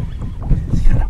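Wind buffets the microphone on a boat while trout fishing with lead core lines, a low steady rumble with gusting swells over about a second, with no speech.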